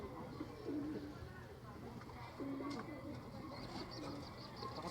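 Young masili pigeons kept for breeding stock coo softly in low, repeated calls under steady background noise and faint chatter.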